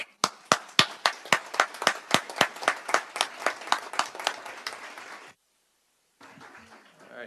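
A small group claps at a public meeting. The applause comes as sharp, distinct claps that start strong and fade over about five seconds, then there is a pause and a faint rustle.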